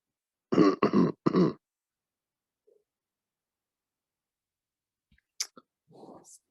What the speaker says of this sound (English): You got some cough